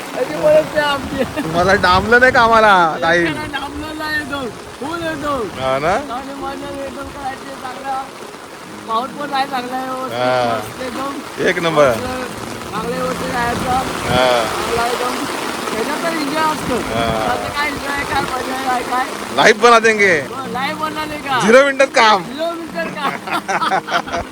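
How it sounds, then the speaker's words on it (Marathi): Heavy monsoon rain pours steadily on a rice paddy during transplanting, a dense wash of noise under near, continuous talking. "पाऊस जाम आलाय रेनकोट घातलाय"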